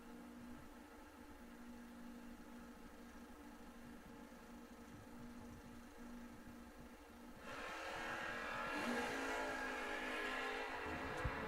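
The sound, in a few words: drag race run, Camaro with 574 engine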